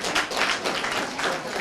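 An audience at a school public speaking forum at Haidar Junior Secondary School claps steadily for the school matron, a dense, even patter of many hands with no pauses.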